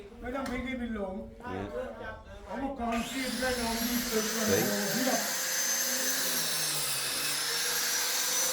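An angle grinder without a guard runs on a house build site in Hua Hin, Thailand, a loud steady high whine that starts partway through and continues alone after someone talks over the opening seconds.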